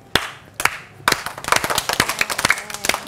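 Hands clap in a children's church session, first a few single sharp claps spaced apart, then a quicker irregular burst of many claps from a group, close and crisp.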